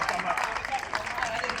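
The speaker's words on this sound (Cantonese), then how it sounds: "俾掌聲！" Brief, fairly faint applause from the audience at a school Mid-Autumn gala, an even patter of clapping from a crowd with some murmuring mixed in.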